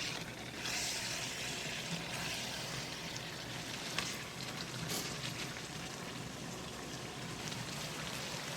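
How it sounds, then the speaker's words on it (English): Meat browns in a hot pan, giving a steady, soft sizzling hiss with a few faint clicks and no talk. "Just trying to cook the meat and brown it."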